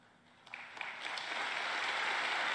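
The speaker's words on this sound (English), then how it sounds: "Very light applause." Light, sparse applause from an audience at a political speech event, beginning as a few scattered claps and thickening into a steady, moderate patter that holds until the end.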